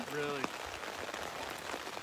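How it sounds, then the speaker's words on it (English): Rain falls steadily outdoors at a white state-line marker post where Ohio, Michigan and Indiana meet, a continuous wet patter throughout, with a brief voice-like tone near the start. "we are here in the rain, getting wet"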